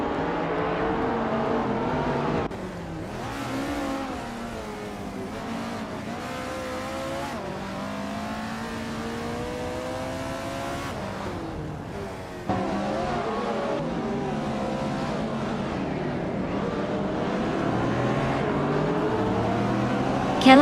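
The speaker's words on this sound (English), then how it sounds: "the race is kicking off at Vallelunga Club, and leading the pack is Notes in a 2001 TVR" Race cars in a video game race at Vallelunga Club, including a 2001 TVR Tuscan S, accelerate hard with rising and falling engine revs through gear shifts, loud and continuous, with occasional tire squeal.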